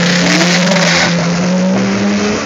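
A modified car races hard at a Luskville event, its engine revving loudly and climbing in pitch as it accelerates close by, a continuous roaring whine with no talk over it.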